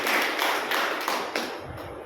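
Audience applause at a devotional gathering, a short burst of fairly loud clapping from a small group, slightly uneven and tapering off over about two seconds.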